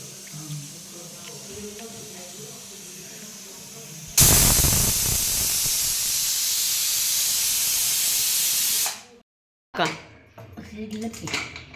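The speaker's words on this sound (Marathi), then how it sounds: "आता कुकरला लावून घ्यायची आता किती शिट्या करून घ्यायच्या" A loud, steady hiss of steam bursts from a pressure cooker whistle while cooking broken-wheat lapshi and rushes for about five seconds, then cuts off abruptly; faint voices follow.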